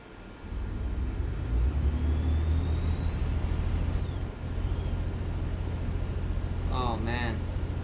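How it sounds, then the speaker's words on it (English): A heavy truck engine in American Truck Simulator drones loud and steady with a low rumble and rising whine, dipping briefly midway before resuming; a few chirpy tones appear near the end. "Oh, listen to that engine."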